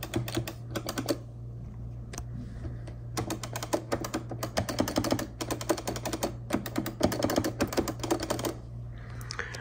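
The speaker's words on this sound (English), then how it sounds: "It's Sanwa, so it's, you know, with springs and shit. So it's a very clacky kind of sound" Rapid bursts of sharp plastic clacks from a Sanwa Japanese square-gate arcade lever with springs, near and dry, sounding in quick rattling flurries over a steady low hum.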